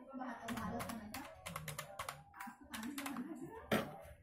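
Rapid, uneven keystrokes on a computer keyboard while a password is typed, a close clatter of many taps running through the whole stretch under a murmuring voice.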